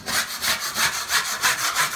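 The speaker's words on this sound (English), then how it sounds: "Go around the room and scrape." A hand scraper drags across a drywall surface while pieces are removed during a home office build, producing a steady series of rough, rhythmic strokes, close and fairly loud, with no talking.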